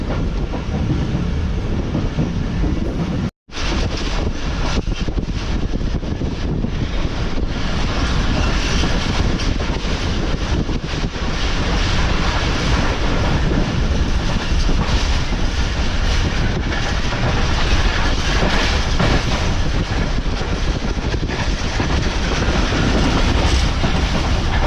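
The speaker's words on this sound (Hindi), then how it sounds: "ये 4:15 बजे ट्रेन हमारी स्किप कर रही है" Passenger train in Pakistan running on rails past a small station without stopping, a steady loud rumble with rail clatter throughout and a brief cut near the start.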